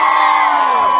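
Concert crowd at Tashkent City Park cheering to vote for a song, a short, loud, sustained roar of many voices shouting together.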